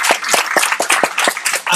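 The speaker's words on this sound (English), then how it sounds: "I've got some time for applause." Audience clapping at a comedy songwriting panel aboard the JoCo Cruise, a brief burst of dense, steady hand claps close by with some sharper individual claps standing out.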